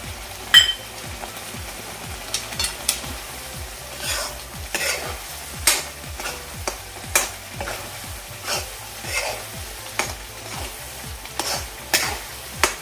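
Kokum and crab curry ingredients fry in hot oil over a medium flame, a close crackling sizzle broken by regular scraping strokes of a spatula stirring the pan, with no voices.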